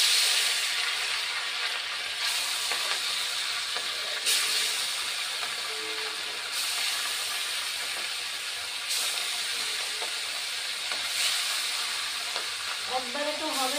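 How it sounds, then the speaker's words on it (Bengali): Fresh river fish fry in hot oil, a loud steady sizzle that runs close and continuous throughout, with faint clatter and stirring at points and no voices. "বন্ধুরা তেল গরম হয়ে গেছে, এখন মাছ দিয়ে দিচ্ছি"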